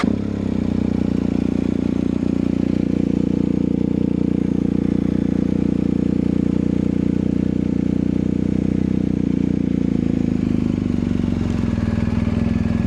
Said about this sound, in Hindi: बाइक की साउंड ज़्यादा आएगी।